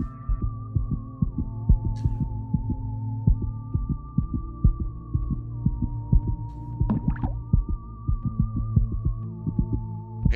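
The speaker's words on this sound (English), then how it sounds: "Why are we getting heartbeat sounds?" Heartbeat sounds in the video game The Void pulse in a steady, throbbing rhythm of low thumps over a continuous hum and a wavering tone.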